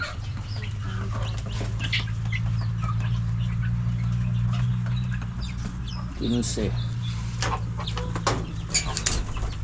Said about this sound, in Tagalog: Daming tandang ngayon.